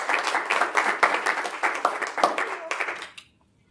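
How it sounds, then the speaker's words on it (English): An audience at a small business and technology talk claps in welcome for an arriving speaker, a steady round of applause that fades out after about three seconds, with faint talk underneath. "Let's give her a round of applause."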